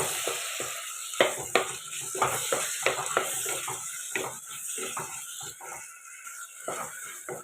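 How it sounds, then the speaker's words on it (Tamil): Tomatoes and onions sauté in a village-style pan, a constant sizzle broken by repeated sharp scrapes and clacks of a spoon stirring against the metal. "ஒரு மூணு தக்காளி போட்டுக்கலாம் இது இதோடு சேர்த்து வதக்கலாம்"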